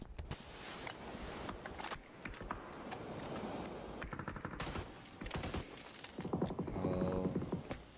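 Gunshots in a competitive video game match, with scattered sharp cracks and short bursts mixed with footstep-like clatter and game effects, at moderate level throughout.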